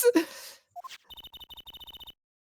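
A cell phone rings in the Ace Attorney video game: a rapid series of electronic trill pulses, fairly faint, following a brief burst of sound effects.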